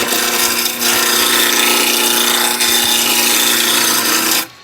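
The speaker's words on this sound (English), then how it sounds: "then use the roughing gouge. We'll just clean off the centre" Roughing gouge cutting spindle wood on a lathe, a loud, continuous scraping hiss close by, dipping briefly twice as the tool shifts.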